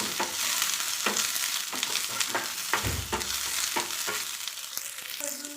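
Onion, crushed garlic and curry leaves sauté in a pan, giving a constant close sizzle broken by regular stirring scrapes and clanks roughly every second, with one deeper thump midway.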